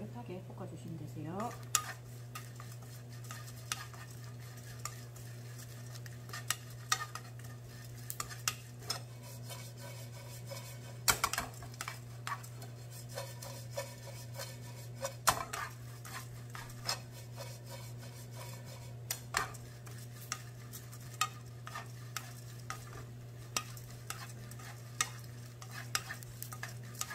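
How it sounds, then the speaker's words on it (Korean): Almonds are stir-fried in a pan for a side dish, with a faint low hum under scattered scraping and tapping of the spatula against the pan throughout. "전체적으로 좀 노릇노릇하게 볶아주시면 되세요"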